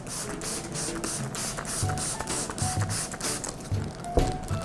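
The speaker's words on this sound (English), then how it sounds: "Just spray some water inside." Water sprayed into a plastic bag in short hissing bursts, several quick spritzes close by with faint rustling between them.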